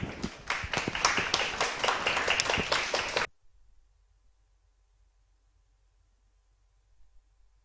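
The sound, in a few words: audience applause welcoming a speaker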